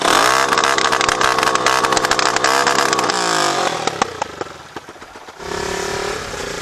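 A Yamaha 125Z motorcycle fitted with a flame-spitting exhaust revs hard and loud close by, rising and falling with crackling pops, then dropping to a lower, steady idle near the end.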